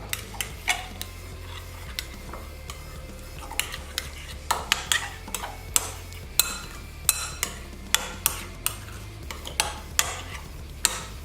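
A utensil stirs and scrapes ingredients for a veggie lasagna with cremini mushrooms in a bowl or pot, making close, steady clinks and knocks. The rhythm is fairly regular and runs continuously with no talking.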